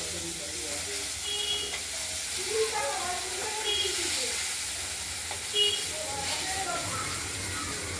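Ail fish frying in hot oil, a steady close sizzle and hiss running the whole time with small pops and scrapes, under someone talking.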